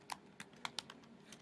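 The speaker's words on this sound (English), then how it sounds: "here is where you're going to want to type in your email address and password" Keys tap on a computer keyboard as an email address and password are typed, a handful of quick, light clicks in an irregular rhythm, close and fairly quiet.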